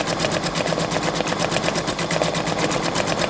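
A Brother Innovis 2800D sewing machine running at steady speed, a close, loud, rapid and even mechanical stitching rattle sustained without pause throughout.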